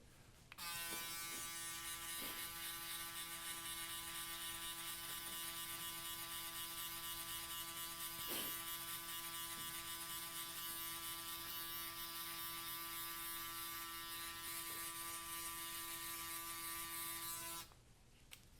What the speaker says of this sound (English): adding in the finishing touches with this foil shaver